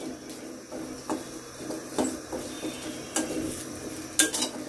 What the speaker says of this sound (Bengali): এগুলো নেড়ে চেড়ে দিতে হবে, না হয় এক সাইড থেকে পুড়ে যাবে।